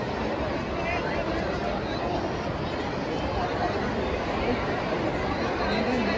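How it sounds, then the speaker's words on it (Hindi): A large crowd at a Republic Day celebration in a sports complex fills the air with steady, dense chatter and babble, a continuous wash of many voices at even loudness throughout. "भीड़ देखिए आज का।"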